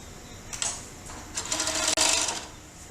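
Overlock sewing machine stitching fabric for a dog's post-surgical garment, running in several quick bursts that build to a sustained whirring run, with brief pauses between and a sharp click near the end.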